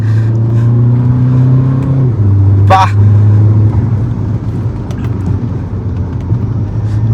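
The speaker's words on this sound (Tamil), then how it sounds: "டர்போ சவுண்ட் வந்துட்டு வெளில கேட்குது, எக்ஸாஸ்ட் நோட்டும் டர்போ நோட்டும் நம்மளுக்கு உள்ளே கேட்குற அளவுக்கு" A Stage 5 custom-turbo Skoda Laura 2.0L diesel accelerating, its loud steady engine drone heard from inside the car as the pitch climbs, drops at a gear change and carries on, with a brief turbo whistle.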